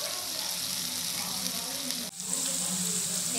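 Pointed gourd sizzles steadily in hot oil with ginger paste, a dense, even frying hiss that briefly drops and then resumes just as strongly.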